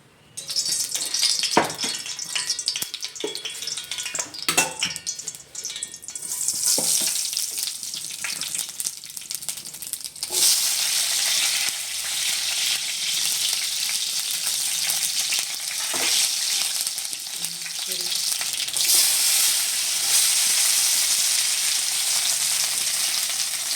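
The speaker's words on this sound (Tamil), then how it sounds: "இப்போ தாளிக்க போகிறேன்." Spices tempering in hot oil for podalanga (snake gourd) kootu sizzle and crackle, a steady loud frying hiss that intensifies midway, with a few clinks of a utensil early on.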